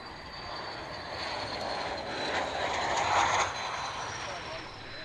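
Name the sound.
Hawker Hunter jet, German Air Force, flying at air show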